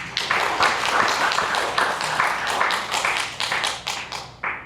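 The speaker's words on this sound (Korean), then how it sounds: "하나님께 박수 한번 치십시다" A church congregation at a Sunday worship service applauds, a steady, loud patter of many hands clapping together that thins out into a few separate claps at the end.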